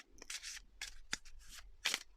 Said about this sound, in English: I've started shuffling again